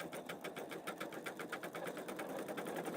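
A Pfaff Creative Vision embroidery machine stitching steadily, with a fast, even mechanical chatter and whir running continuously at close range.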